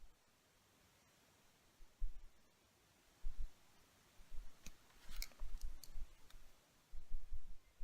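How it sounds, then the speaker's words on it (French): A guillotine clipper snips acrylic false nails to length while gel nails are being done, giving a few sharp, close clicks and snaps scattered over a quiet background. "je prends ma pince guillotine. Donc c'est une pince qui sert à couper justement les faux ongles"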